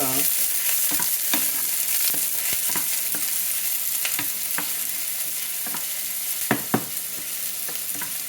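Onions frying in hot oil in a home kitchen, cooking for a spinach-tomato curry: a steady close sizzle with repeated scrapes and clicks of stirring, and no voices.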